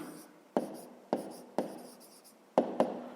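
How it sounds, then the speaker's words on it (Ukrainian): A pen writes an answer to a 5th-grade maths distance problem on paper, with five short scratchy strokes arriving at uneven intervals, close and quiet, each fading quickly, with no talking. "Записуємо тоді відповідь."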